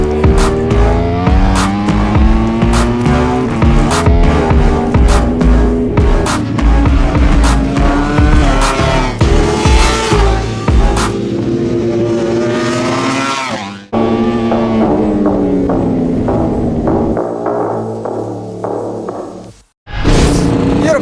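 Ducati V4 Streetfighter motorcycle riding on a race track, engine loud and near, revving hard through rising and falling gear changes, with a sharp cut near the end.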